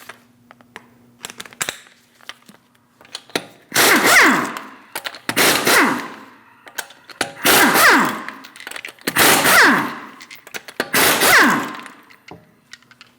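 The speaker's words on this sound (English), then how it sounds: "Using a 19mm socket, remove the 5 lug nuts" Lug nuts being loosened with a 19mm socket on a Chevrolet Malibu front wheel, five loud bursts of impact-wrench rattling evenly spaced, close up with quiet clicks between.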